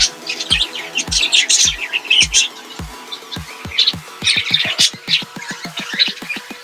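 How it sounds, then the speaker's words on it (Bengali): Budgerigars chirp and squawk near their chicks in a rapid run of sharp, high calls, close and loud, with clicking beats that speed up toward the end. "পাখিগুলো আসলে চেঁচামেচি করে এবং কামড়ের চেষ্টা করে"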